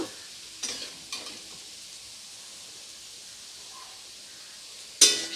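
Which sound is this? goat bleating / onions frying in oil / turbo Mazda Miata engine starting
onions frying in oil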